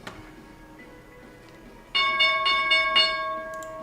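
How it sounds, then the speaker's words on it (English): A stock market opening bell rings out loudly and abruptly, its sustained metallic tone ringing steadily with a few repeated strikes over a faint room background. "There we go, opening bell."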